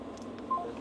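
A brief electronic dialing tone sounds on a phone as a video call is placed during an interview, a short clean beep over a low, steady room hum with no talk.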